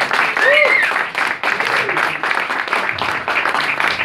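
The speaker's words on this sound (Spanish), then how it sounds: "un fuerte aplauso para él." Loud applause from an audience at the Multiforo Alicia venue, dense clapping and crowd noise with cheering voices mixed in, sustained throughout.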